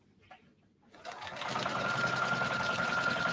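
Sewing machine stitching a seam allowance around the perimeter of a sling bag with a regular presser foot, starting after about a second of near silence and then running as a steady, continuous whirring hum to the end.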